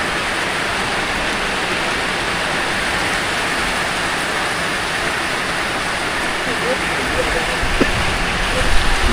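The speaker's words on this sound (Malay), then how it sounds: "hujan guys" Steady rain pours down at a fishing pond, a dense continuous hiss that holds even throughout and swells slightly toward the end, with no voices over it.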